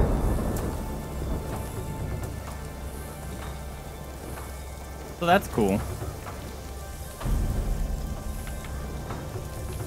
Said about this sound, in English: Thunder startled the crap out of you.